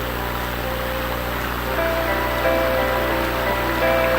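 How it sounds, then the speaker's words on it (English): A flowing brook in Ireland rushes steadily with a constant watery hiss, fairly loud and close, with a faint tone running through it and no voices. "Listen to the brook, to the wind, to the birds song"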